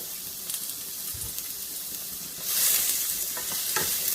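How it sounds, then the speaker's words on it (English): Carrots and potatoes bubbling and sizzling in a pan for a beef and mushroom stroganoff, a steady close frying hiss that swells louder partway through, with light stirring scrapes. "carrots and the potatoes just bubbling away there"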